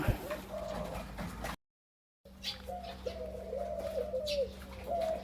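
A young dove, about one to two months old, gives soft repeated coos over a steady low hum, with a brief break of silence partway through.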